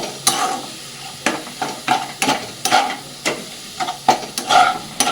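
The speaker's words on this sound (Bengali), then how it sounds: "এবার এগুলো ভালো করে চিকেনের সাথে কষিয়ে নেব" Chicken with coriander, cumin and chili powder and salt is sautéed in a pan, with a rhythmic series of sharp spatula scrapes and knocks over a soft background sizzle.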